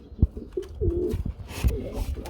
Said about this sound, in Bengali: ডাকগুলো কবুতরের ডাক আমার কাছে খুব ভালো লাগে